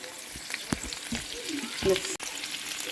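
Garlic frying in a pan for ginataang tulingan, a steady sizzle with a few utensil scrapes and clicks, close and fairly loud, with no voices.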